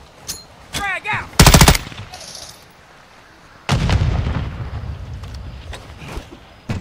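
Call of Duty multiplayer match: a frag grenade blast bursts out alongside sharp gunfire cracks, then a second heavy explosion rumbles and decays, with scattered shots and faint game chatter around it.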